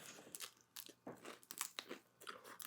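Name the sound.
biting and chewing crunchy snacks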